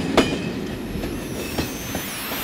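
Field recording of a passing train, a steady rumble of rail cars with a few sharp clicks and faint squealing wheel tones over a low continuous drone.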